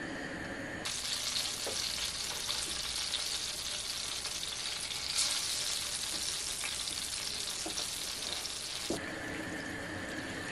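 Meatballs sizzle and crackle steadily in hot oil, a bright continuous frying hiss that swells in after a moment and drops away near the end.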